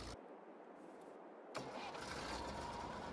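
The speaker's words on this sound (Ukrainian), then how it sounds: "Ось цей трактор завівся і зразу і поїхав." A tractor engine in Farming Simulator 22 cranks briefly, then catches and fires into a steady mid-pitched running note, close and fairly loud.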